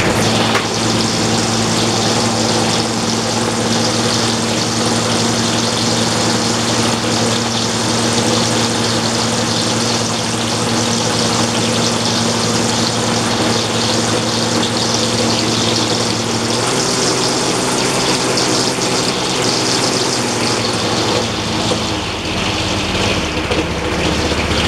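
A petrol string line mower engine runs steadily after being primed, holding a constant loud drone whose pitch shifts slightly partway through, with no one talking.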